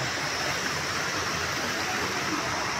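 Water pours steadily from a stone spout at a temple in the cold Himalayan region of Barpak, Gorkha, a close, continuous rushing splash with no break.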